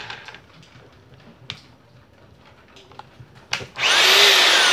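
A DeWalt D25133K rotary hammer in hammer mode starts up near the end, a loud, steady whining roar after a few quiet seconds of faint knocks and handling.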